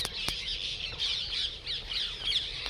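Parrots squawk in a farm field at evening harvest time, a series of shrill repeated calls close by, with no talking over them.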